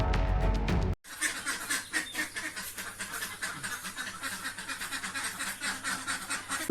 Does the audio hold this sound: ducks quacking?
yes